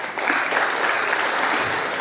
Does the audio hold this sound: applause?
yes